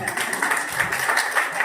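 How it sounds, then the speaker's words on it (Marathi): Applause at a lucky-draw prize announcement during an honouring ceremony for beautician trainees in Nashik: a brief, dense burst of clapping from a crowd, fairly close and continuous, with some voices mixed in. "ना, टाळ्या होत्या."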